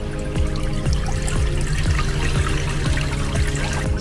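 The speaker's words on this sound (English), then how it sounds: "So it would take the water out of here and it would drain out." Water draining out of a manual twin tub washing machine in Lagos, Nigeria, a steady trickling and splashing flow with repeated small drips, close by and continuous with no talking.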